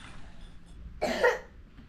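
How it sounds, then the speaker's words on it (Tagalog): A single short cough from a child who has a cough, close by, with quiet room noise around it. "Inuubo ah."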